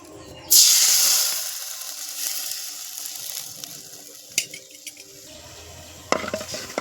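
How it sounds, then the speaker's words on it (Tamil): Drumstick leaf juice pours into halwa with a bright hissing sizzle, followed by quieter scraping and stirring in the pan and a few sharp utensil knocks. "இப்போ இந்த முருங்கை சாரை ஊற்றி நல்லா கிண்டி எடுத்துடலாம்"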